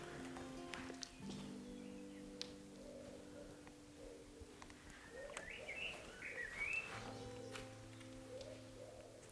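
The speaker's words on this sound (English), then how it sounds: "You can hear the birds chirping in the background." Scattered birds chirp and whistle at a distance around an abandoned mansion in the Italian countryside, over a quiet outdoor background, with soft cooing tones mixed in.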